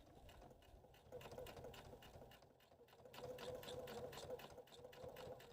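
Sewing machine top stitching around the edge of a fabric picnic pocket, a quiet rapid mechanical whir with fast rhythmic needle clatter running continuously, briefly slowing before speeding up again.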